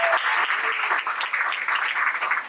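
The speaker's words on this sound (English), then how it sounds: "everyone give Leslie a big round of applause" An audience claps for Leslie at a PechaKucha Night event in Miami, brisk, close applause with uneven bursts throughout the short stretch.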